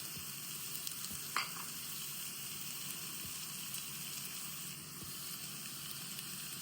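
Sliced onions sautéing in a pan for chicken roast, a steady soft sizzle and hiss with an occasional faint clink of a spoon, close and constant throughout.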